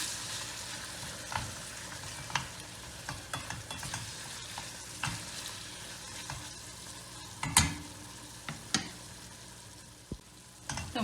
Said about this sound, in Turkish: Bunu da birkaç dakika kavuracağım.